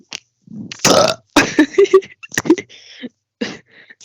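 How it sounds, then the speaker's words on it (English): A person lets out a loud, drawn-out burp in several gurgling pulses, close and dry with brief quiet gaps between them. "That was me burping."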